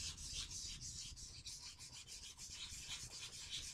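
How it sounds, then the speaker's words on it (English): Light sanding of a wooden gun stock in a steady circular motion, a soft continuous abrasive rubbing with gentle rhythmic swells, close and fairly quiet with no talking. "Keep sanding lightly in a circular motion."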